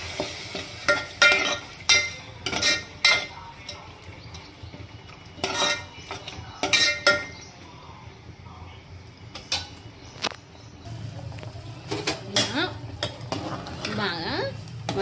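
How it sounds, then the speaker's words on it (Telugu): A spoon stirs moong dal with onions, tomatoes, chillies and vegetables in a pot, with repeated scraping clatters against the metal and a soft frying hiss underneath. Speech is faint in the background. "పెసరపప్పు కిచిడి కాబట్టి దీన్ని బాగా కలుపుకోవాలి"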